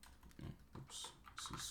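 A computer keyboard with a reported fault is typed on in short bursts of clicky keystrokes, close and fairly loud, with pauses between runs.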